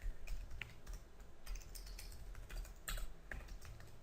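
Steady, quiet typing on a computer keyboard while entering code, with irregular clicks and clustered key presses running continuously and fairly close.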